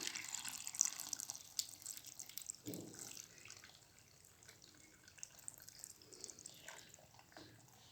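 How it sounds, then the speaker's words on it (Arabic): Pickling brine poured from a container into a vessel of vegetables, giving a quiet, continuous watery trickle and splash with faint background noise and no talk. "هنبدأ كده ننزل محلول التخليل بتاعنا"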